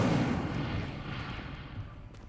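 Incendio fire spell in the video game Hogwarts Legacy, a broad roaring whoosh of flame with a heavy low rumble that fades gradually over about two seconds.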